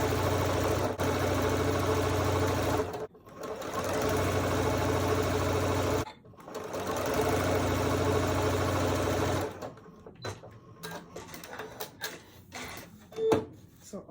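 A sewing machine stitches quilt block pieces in steady, fast mechanical bursts, running for a few seconds, pausing, then running again before stopping, followed by soft handling noises of fabric and the machine.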